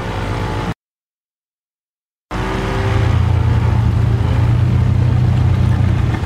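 A small boat's engine runs loudly and steadily with a low, droning rumble, broken once by a short dropout before the drone resumes.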